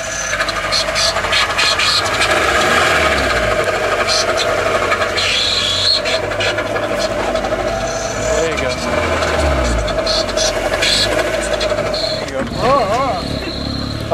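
A demolition derby car with a manual transmission runs steadily and loudly throughout, with a rising whine near the end and some rattling.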